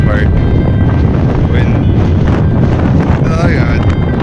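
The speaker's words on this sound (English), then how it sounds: "Through that crazy wind tunnel" Strong wind blows across a mountain ridge on New Zealand's South Island, a loud, constant roar buffeting the microphone, with brief voice sounds caught in the gusts.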